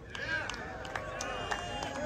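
Live crowd at an outdoor concert cheering and whooping, a dense, steady roar of voices and scattered claps at moderate distance.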